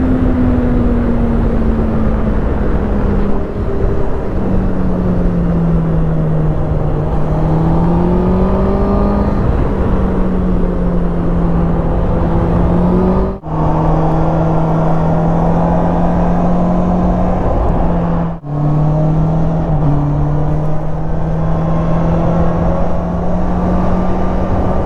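Honda CB650R motorcycle exhaust while riding: a loud, close, continuous engine drone that climbs and settles with speed, with two brief drops in tone at gear changes, heavy wind rush underneath.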